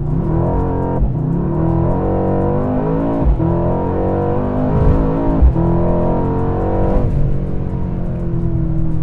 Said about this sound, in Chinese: 哇，瞬间这个排气声浪也变得不同